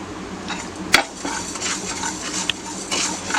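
Coriander seeds dry-roast in a pan over a low gas flame, giving a soft, steady rustle with light scraping and a few sharp clinks of a spoon against the pan.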